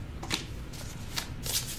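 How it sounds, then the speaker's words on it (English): Tarot cards being handled and drawn: several quick, crisp shuffling riffles and card slides in short bursts, close up, with no talking. "Let's get two cards for Aries energy."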